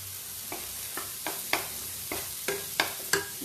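Ginger and garlic paste fries in a hot pan over full flame, a steady sizzle broken by about eight sharp stirring scrapes at a regular beat, close and clear with no voices.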